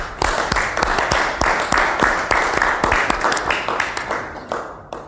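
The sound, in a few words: audience applause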